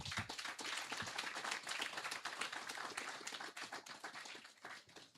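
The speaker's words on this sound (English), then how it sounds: "Shall we give a clap to ourselves?" Audience clapping at a Ghana Anaesthesiologists Society 30th anniversary launch, a dense patter of hand claps from a crowd that holds fairly steady, then thins slightly toward the end.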